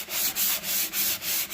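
Stained wood is sanded with the grain in steady back-and-forth strokes, about five rhythmic rasping passes heard close up with no talking.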